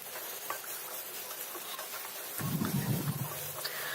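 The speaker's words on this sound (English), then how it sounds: "I'm going to add the onions and fry them till they're nice and translucent" Onions frying in a tablespoon of oil in a pan: a faint, steady crackling patter that swells into a louder, fuller sizzle partway through, then keeps hissing.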